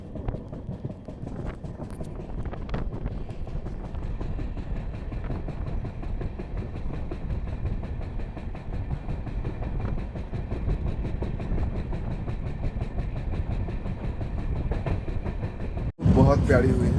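A passenger train travels through the valley toward Haflong, Assam, on the Anand Vihar to Sairang route. It makes a steady, loud rolling rumble with faint rhythmic clatter, and a voice is partly heard beneath it before a sudden louder burst at the end.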